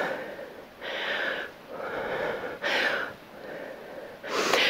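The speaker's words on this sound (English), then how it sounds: "you can probably hear me breathing" Heavy, laboured breathing of a man just after a kettlebell workout: four loud, rhythmic breath cycles of gasping inhales and exhales, close and alone with no talk.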